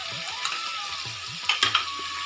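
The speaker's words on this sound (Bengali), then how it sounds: "এবার রসুন বাটা দিলাম।" Garlic paste hits a hot pan and fries with a bright hiss, with a few sharp spits and spoon scrapes near the end.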